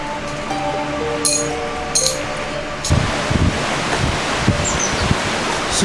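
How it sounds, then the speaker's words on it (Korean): A stream flows through the forest at Tel Dan in northern Israel, a steady broadband rush of water with occasional soft splashes and rustles, faint tones early on, and no talking. "숲으로 들어갈수록 물소리가 점점 커지는데요."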